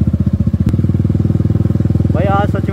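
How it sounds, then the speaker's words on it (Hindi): Motorbike engine putters steadily at close range in a rapid regular rhythm while riding off-road, with a brief clunk early on and a horn-like tonal sound near the end. "आज सच में ना अच्छा खासा ऑफ रोडिंग होगी मेरी बाइक का"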